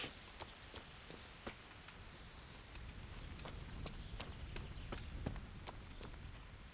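A horse's hooves clip-clop in a steady walking rhythm in the medieval game Kingdom Come: Deliverance, soft and somewhat distant over a light rain-like background hiss.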